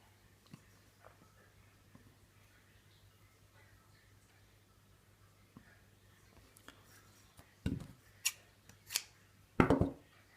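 Scissors snip through frayed sewing thread during hand sewing, heard as a few sharp, close clicks near the end after a long quiet stretch with faint handling noise.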